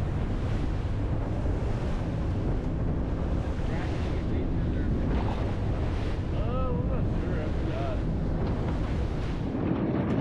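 Rough offshore seas of 4 to 6 feet slam and rush around a 37-foot Freeman boat heading out from Venice, Louisiana. Constant heavy wind buffeting and roaring water fill the scene, with faint voices briefly audible.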